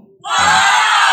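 A crowd's "wow" reaction effect from TikTok Live swells in suddenly after a brief quiet and holds as a loud, sustained chorus of voices, with a low voice briefly underneath near its start.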